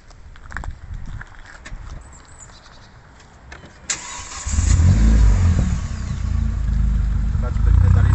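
Renault Mégane 3 RS Trophy with a full straight-pipe exhaust starts up and then roars and revs loudly, following a few seconds of people talking over quiet background.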